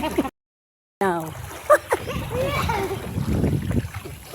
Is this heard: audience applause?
no